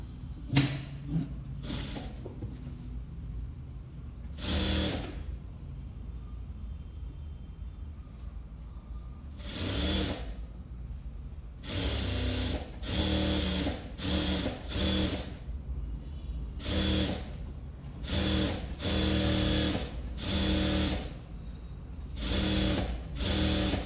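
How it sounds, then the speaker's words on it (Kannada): A sewing machine stitches the folded lining of a children's zip-up skirt in repeated short bursts of whirring, separated by pauses, then in quicker back-to-back runs near the end. "ಲೈನಿಂಗನ್ನು ನಾನಿಲ್ಲಿ ಕೆಳಗಡೆ ಫೋಲ್ಡಿಂಗ್ ಇರೋದನ್ನು ಸ್ಟಿಚ್ ಮಾಡ್ಕೊತೀನಿ ಈ ರೀತಿ"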